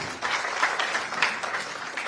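A round of applause for sponsors at an event, steady crowd clapping with individual claps standing out, moderately distant and continuous throughout.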